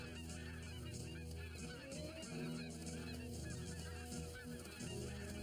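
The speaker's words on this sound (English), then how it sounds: "instead they turned into majestic, wild swans" Wild swans in an animated film give loud, continuous honking calls that overlap densely across the whole stretch, close and busy with no pauses.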